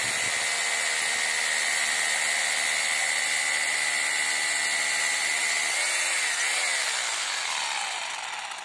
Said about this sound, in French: je vais commencer à pouvoir percer